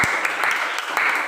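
A short burst of classroom applause, students clapping in a steady wash with a couple of louder claps near the start and middle.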